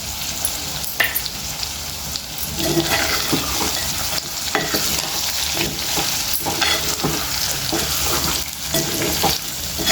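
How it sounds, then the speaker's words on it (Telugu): Cashew chicken frying in a pan while being stirred, a steady loud sizzle running throughout with scraping stir strokes recurring every second or two, no voices. "ఇంకోసేపు మనం ఇట్లనే ఫ్రై చేసుకుందాము"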